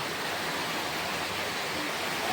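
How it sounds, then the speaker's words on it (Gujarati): Heavy rain pours down in a steady, dense hiss, so loud and continuous it sounds almost like a waterfall, with no pauses or talking. "કઈ દેખાતું નથી એટલો વરસાદ આવે છે"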